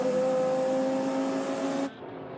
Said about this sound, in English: here we are with one of those KTM Expo GT2 cars, also racing in a GTX class